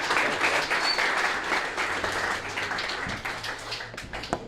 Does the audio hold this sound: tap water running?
no